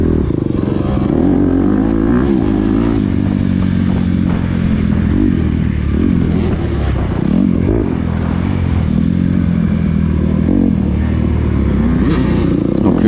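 Motocross motorcycle at the Wingles track, engine loud and close throughout, revving and surging in repeated rises and falls as the rider accelerates, with clattering mechanical noise and no talk.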